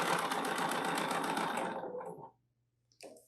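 A quilting sewing machine stitches along a template for a pointed leaf oval block design, running fast and steady for about two seconds before winding down to silence, followed by a brief soft clatter.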